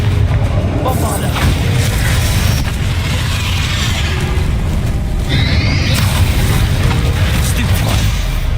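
Bombarda blasting spell in Hogwarts Legacy, heard as a dense, loud explosive boom amid continuous combat noise and game effects, with a voice speaking over it.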